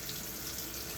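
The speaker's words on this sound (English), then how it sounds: "I'm going to turn on hot water" Hot water runs steadily from a kitchen tap into a sink, a continuous close hiss with no talking.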